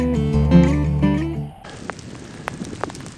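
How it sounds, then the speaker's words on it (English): Hail pelts down on Going-to-the-Sun Road in Glacier National Park in August, with snow lying around. A swell of music cuts off, leaving scattered sharp ticks and taps of hailstones striking, fairly faint and irregular. "The sound you hear is not rain, it's hail."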